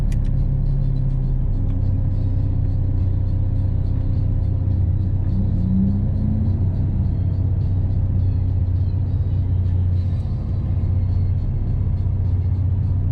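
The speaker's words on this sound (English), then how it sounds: "maybe a little bit better burnout" Mercedes SLK32 AMG at a drag and roll racing meet doing a burnout, its engine holding a loud, steady low rumble throughout with a brief rise in revs near the middle, no talk over it.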